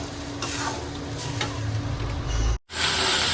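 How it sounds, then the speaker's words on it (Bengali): Spice paste sizzles and crackles as it is stirred and fried in a pan, a dense, close frying hiss with scraping, briefly cutting out before resuming loudly. "এখন আমি মশলাটা ভালোভাবে কষাই নেব"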